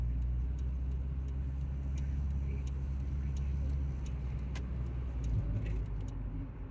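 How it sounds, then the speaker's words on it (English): Volvo 740 car pulling out to overtake, a low steady engine and road drone from inside the cabin with light rattling clicks, while people talk over it. "No, you're gonna have to go for an overtake, Beats."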